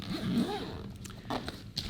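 Zipper on a KingKong PLUS26 backpack being pulled partway open, a short scratchy zip followed by a few light rustles and clicks, close and fairly clear with no talking.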